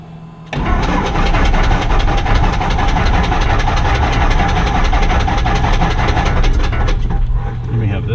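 A small airplane engine cranks and catches, then runs loudly and steadily for several seconds before cutting back abruptly near the end.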